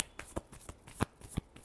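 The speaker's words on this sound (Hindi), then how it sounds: "Last shuffle." Tarot cards shuffled by hand in a quiet room, a run of crisp riffling snaps and soft slaps, about eight distinct bursts at an uneven rhythm, close and fairly faint.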